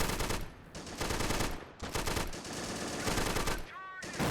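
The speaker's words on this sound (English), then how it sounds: "Where's that machine gunner?" Sustained, loud machine gun fire from the Army Men: Plastic Wars video game, continuous bursts of gunfire with a brief break near the middle and a short gap near the end.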